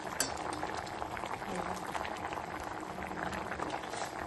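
Black gram dal boils steadily in a pot on the stove, a soft continuous bubbling and simmering heard close up with no break.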